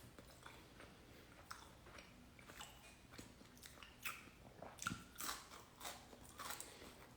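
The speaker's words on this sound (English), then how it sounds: "That bite was crunchy" Crunchy homemade keto pizza chips bitten and chewed close to the mic, with a series of crisp crackling bites and chewing crunches that grow louder and more frequent toward the end, quiet background, no talking.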